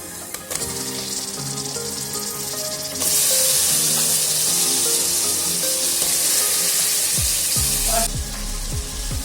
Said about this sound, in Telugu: అల్లం వెల్లుల్లి పేస్ట్ది పచ్చివాసన వెళ్ళేదాకా ఫ్రై చేసుకున్నాక మటన్ వేసుకోవాలి